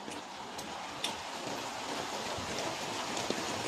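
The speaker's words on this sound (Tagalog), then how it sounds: "Kaya pag ganito na umuulan dito guys, malamig." Steady rain falls in a city, forming a soft, even hiss with a few faint drips standing out. No voices are heard.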